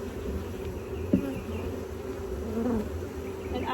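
Honeybees swarm around hive frames in a dense, continuous buzz, close and steady, with individual bees droning past now and then over the massed hum.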